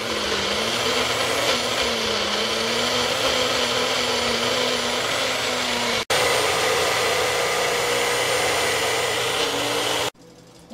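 A Baby Bullet blender purees baby food with a loud, steady motor whine and grinding roar. It stops briefly, restarts, then cuts off near the end.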